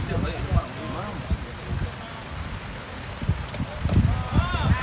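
Rain falls steadily during a sepak raga tuju match outdoors, a constant hiss of drops on surfaces with scattered louder splatters, while voices talk over it.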